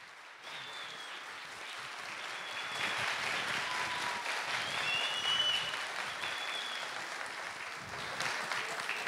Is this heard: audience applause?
yes